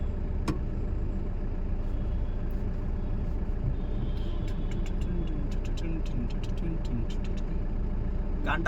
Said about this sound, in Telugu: బండ్లు అయితే పోతా ఉన్నాయి. సిగ్నల్ పడింది కదా. బస్సులు చూసినారు కదా, ప్రైవేట్ బస్సులు ఎట్టున్నాయి.